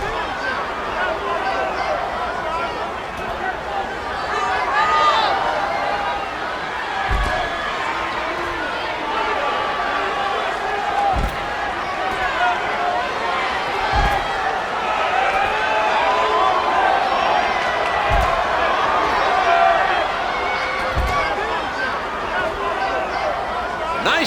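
Continuous arena crowd cheering and roar from the wrestling video game WWE 13, steady and loud throughout, with a few low thuds of in-ring impacts punctuating the noise.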